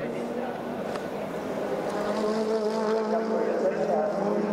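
Production GT race cars, among them a Mitsubishi Evo 1 and a Nissan 300ZX, racing at Ruapuna, a sustained droning engine note heard from a distance beneath a commentator's voice.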